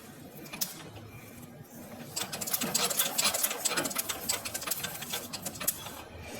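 Pedal-operated sewing machine stitching through practice paper, a rapid rattling patter that starts lighter and picks up speed and loudness after about two seconds, running continuously and close with no talking.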